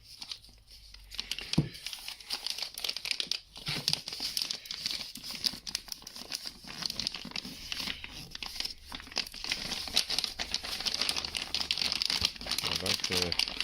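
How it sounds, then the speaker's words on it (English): Stiff plastic packaging crinkles and crackles loudly up close as a Televue Ethos 21mm eyepiece is unwrapped, a dense continuous rustling with sharper crunches, and a voice speaking over it. "I like the sound of this plastic, quite strong."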